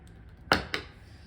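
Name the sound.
scissors cutting crochet yarn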